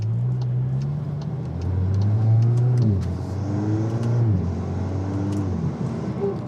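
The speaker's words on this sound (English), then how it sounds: "The turbo sounds you get with this open intake are amazing." An MK8 Golf R turbo with an open intake pulls hard under acceleration, its loud engine note climbing through several gear changes with turbo whoosh on top, close and continuous.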